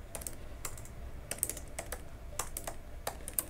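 Code being typed on a computer keyboard while writing a React CSS styling practice program, a steady run of crisp key clicks with occasional louder strikes, close and alone.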